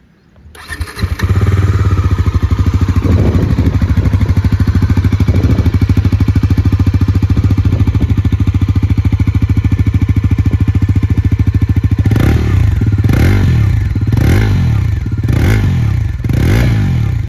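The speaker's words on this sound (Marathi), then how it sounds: "तर आताच तुम्ही गाडीचा एक्झॉस्ट नोट ऐकला." A Bajaj Pulsar NS400Z motorcycle with an underbelly exhaust starts up and settles into a loud, close idle, followed by several sharp throttle blips rising and falling near the end.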